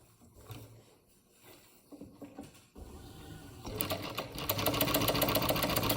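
A sewing machine stitches through shop towels, starting with a few slow, quiet clicks and thumps before speeding up into a loud, rapid, rhythmic chatter of the needle.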